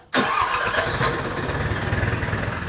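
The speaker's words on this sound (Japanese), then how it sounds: "それではエンジンをかけて" A boat's outboard engine catches abruptly at sea after a brief start, then settles into a steady, fairly loud running drone with a slight pulsing rhythm, no voices over it.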